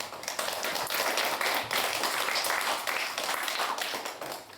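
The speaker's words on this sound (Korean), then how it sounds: "박수로" Audience at a civic discussion forum commemorating a historic battle anniversary claps to welcome a speaker, a steady wash of applause from across the room, moderately loud throughout.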